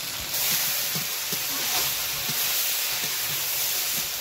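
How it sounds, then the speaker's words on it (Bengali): Cut potatoes and sweet ash gourd fry in a pan with a steady, close hiss and sizzle, broken by faint stirring knocks. "এবার দিয়ে দিব আলু কেটে রাখা। একসঙ্গে খুব ভালোভাবে ভেজে নেব।"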